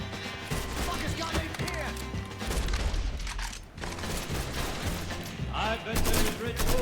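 Bursts of AK rifle fire in the video game Mafia 3, repeated rapid shots with clatter and crashes over busy game noise, with a voice talking intermittently underneath.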